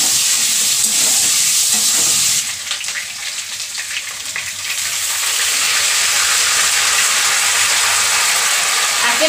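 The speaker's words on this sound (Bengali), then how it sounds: "কাঁকড়া বেশিক্ষণ ভাজতে নেই" Crab sizzles steadily in a hot pan of oil, a loud, bright frying hiss with stirring scrapes, briefly easing in the middle before returning at full strength.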